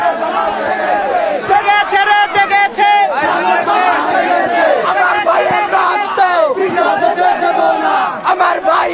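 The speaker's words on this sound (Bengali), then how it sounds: "ছাত্র জনতা স্লোগান দিচ্ছে" Students and members of the public chant protest slogans in unison at a street demonstration in Khulna, loud rhythmic crowd voices rising and falling in repeated bursts, close and continuous throughout.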